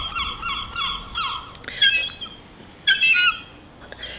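Seagulls squawk nearby in a series of harsh, repeated calls and sharp screeches, loud and close, with short gaps between outbursts and no talking.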